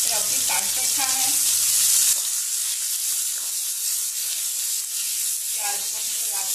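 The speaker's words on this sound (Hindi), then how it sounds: "प्याज को हम लगाते हुए भूनेंगे।" Thinly sliced onions fry in a hot pan with a steady, loud sizzle and hiss, and stirring clinks briefly at the start and again near the end.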